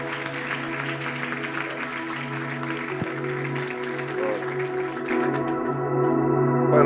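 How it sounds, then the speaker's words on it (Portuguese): A church congregation claps in praise while sustained instrumental music plays underneath, the clapping forming a steady, fairly loud wash that blends with the held chords. "Dê uma salva de palmas ao Senhor."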